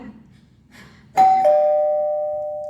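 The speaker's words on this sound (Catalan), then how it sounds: "De sobte va sonar el timbre." A doorbell rings once with a clear two-tone chime whose bright tones sustain and slowly fade in a quiet room, following soft background murmur.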